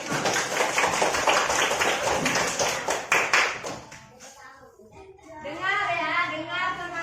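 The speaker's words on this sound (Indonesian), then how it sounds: "Ayo, tepuk tangan untuk Bagas sudah bersedia." A classroom of students claps for a classmate, a brisk burst of many hands lasting about three seconds that then fades, followed by a teacher's voice speaking.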